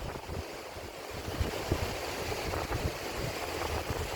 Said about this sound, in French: Tu essaies d'attraper les vagues, Boubou.